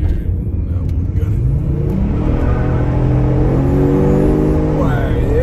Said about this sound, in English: let's see what it's like going up a hill with it in sport mode and the throttle response controller in race mode, level 9